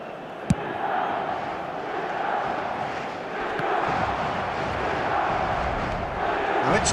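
A video game stadium crowd in eFootball roars and cheers in a steady, dense swell, with a short sharp thump near the start and a match commentator talking over it.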